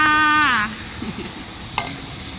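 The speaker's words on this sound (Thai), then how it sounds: "เคี่ยวกระเทียม เคี่ยวกระเทียมหอมๆจ้า" Garlic simmering in a pan gives off a steady, close sizzle with soft bubbling, while a voice rises briefly at the start and again near the end.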